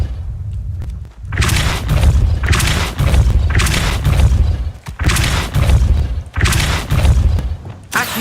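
Spell effects in the Hogwarts Legacy video game, a Depulso force spell among them: loud booming blasts and heavy thumps in repeated bursts, with brief gaps between rapid surges of impact.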